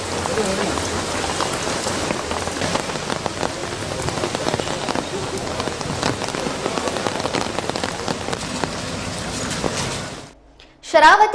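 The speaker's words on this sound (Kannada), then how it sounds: "ತೀರ್ಥಹಳ್ಳಿ ಸೊರಬ ಸಾಗರ ಹೊಸನಗರ ತಾಲೂಕುಗಳಲ್ಲೂ ಭಾರೀ ಮಳೆಯಾಗುತ್ತಿದೆ" Heavy rain pours down across the Thirthahalli, Sorab, Sagar and Hosanagar taluks in a loud, constant roar that suddenly drops away near the end, followed by a short burst of other sound.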